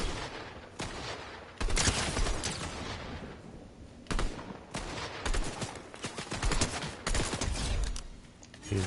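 A machine gun fires in a video game battle, loud bursts with short gaps between them, some long and some clipped, over a quieter stretch of game ambience.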